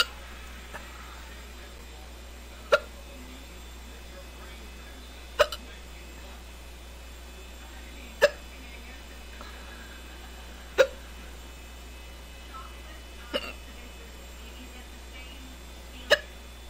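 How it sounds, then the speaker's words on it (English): Six sharp hiccups spread at irregular intervals of two to three seconds, each a brief loud click-like gulp close to the listener, over a quiet indoor hum with no talking. "I don't think there's anything I can do to stop these hiccups."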